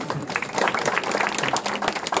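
Clapping from an audience at a public speaking event, a fairly even patter of many hands at moderate level, continuing without pause.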